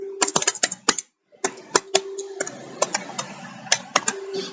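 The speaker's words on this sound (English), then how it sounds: "you should type in your message box" Quick bursts of clicking keys on a computer keyboard, close and crisp, with one brief pause before the tapping picks up again, unevenly paced.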